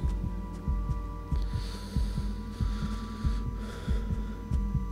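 A steady, heavy heartbeat pulses as a danger cue in the horror game Tulpa, with regular thudding double beats about every half second over a low droning hum, no voices.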